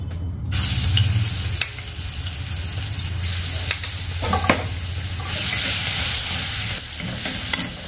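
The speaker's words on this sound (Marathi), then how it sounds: "आपण ही आता आलं लसूणची पेस्ट टाकू." Ginger garlic paste sizzles loudly in hot oil for a mixed vegetable curry, a steady close crackle with a few sharp spatters and brief scrapes of stirring throughout.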